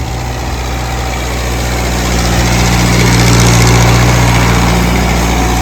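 An old Russian-made tractor engine runs steadily near the Pakistan–India border village, a loud low diesel drone with strong steady harmonics that swells slightly partway through, with no talk over it.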